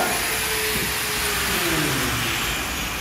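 An angle grinder whines continuously and close, a steady high-pitched motor drone with a slight falling tone partway through, and no voices over it.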